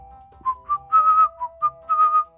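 A person whistles a short tune in a village setting, several clear bright phrases rising and falling in quick bursts, close and alone with a faint low hum beneath.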